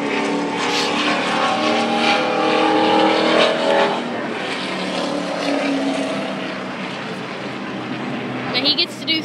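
A race car engine roars loudly, whining up and down as cars pass, with crowd noise and voices mixed underneath.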